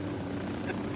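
In the video game Ghost Recon Wildlands, a helicopter makes a steady, droning rotor and engine roar that is moderately loud and unbroken for about a second, with no voices.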